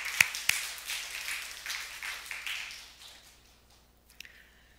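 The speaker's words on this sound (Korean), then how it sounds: "우리 하나님께 영광의 박수 올려드리겠습니다." A church congregation applauds, a burst of many hands clapping that swells and then fades over a few seconds, fairly quiet, with a couple of sharp nearby taps.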